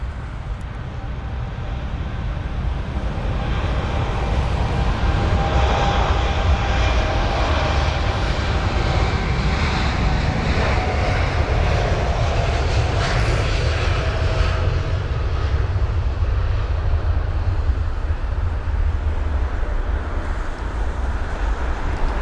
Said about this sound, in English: Got the Air Canada 787 just on the runway now, and that is going to be the 7879 Dreamliner heading to Calgary